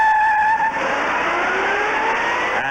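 A Chevy II six against a full-size Ford Galaxie V8 in a desert race: sustained, loud engine drone with rising revs as the cars accelerate, steady and close throughout.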